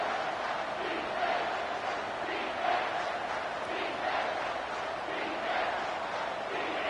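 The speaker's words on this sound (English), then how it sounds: "Man, this crowd really affecting the football game." Steady crowd roar from a stadium in the College Football 25 video game, a continuous loud wash of cheering and yelling held at an even level throughout, with no clear commentary over it.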